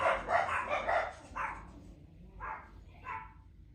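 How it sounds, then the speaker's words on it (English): Dogs bark in a house during longarm quilting, a few short muffled barks at moderate distance with quiet room noise between them. "the dogs are keeping the house secure."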